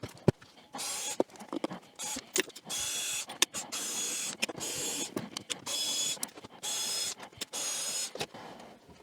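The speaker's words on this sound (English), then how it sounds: "unscrewing the cabinet" Screws being removed from the cabinet of a 1964 Vox AC30 Super Twin guitar amp produce a series of short scraping, ratcheting bursts with brief pauses between them, close up with no voices.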